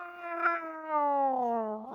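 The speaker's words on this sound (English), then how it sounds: "what snaps you out of your stupor, as it were, is the sound of a cat" A cat yowls in distress as a tabletop game sound effect, one long wavering caterwaul that slides down in pitch and rises again at the end, loud and close, with no talk over it.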